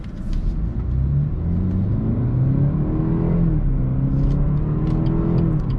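A 2018 BMW 230i xDrive accelerates from the cabin, its engine rising steadily in pitch through the gears with a loud, continuous, close-up drone and no talking.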